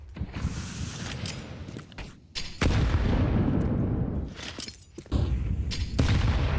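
Grenades burst in Counter-Strike 2, several loud, heavy blasts with crackling debris and rumbling tails, separated by brief quieter gaps.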